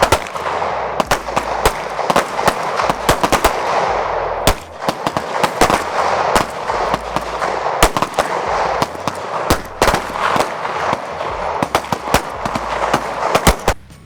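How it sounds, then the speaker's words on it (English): Pistol shots at a shooting-range training session in Nashville crack out in dense, irregular volleys, loud and sharp, with several shooters firing together over about fourteen seconds and no talking. "Put your finger on the trigger when you're ready and give me 8 more shots."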